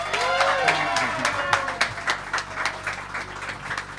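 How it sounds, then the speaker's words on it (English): Applause from an audience at a live Sunday afternoon music showcase, mixed with a voice talking and tonal background sound, the clapping moderate and somewhat uneven under the speech. "Let's give it one more round of applause for Isaiah."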